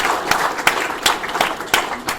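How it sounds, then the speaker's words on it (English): Applause from a gala dinner audience in a hotel ballroom, a few distinct loud claps standing out over a thinner, softer patter of clapping for a couple of seconds. "I would like you all to give yourselves a round of applause."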